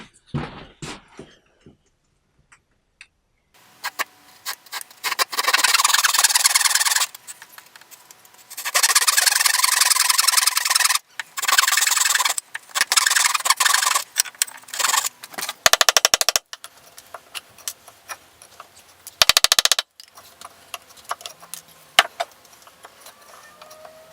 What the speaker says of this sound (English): I'm going to do a few relief cuts, chisel it out, and then the rest is going to be finished off with the spoke shave.